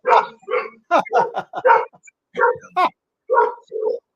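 A dog barks repeatedly in short, loud bursts, several quick barks in a row with brief pauses between groups.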